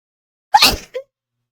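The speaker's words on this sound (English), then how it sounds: "Oh no, I have to sneeze." A single person sneezes once, close and loud: a sharp explosive burst followed by a brief softer tail, then silence.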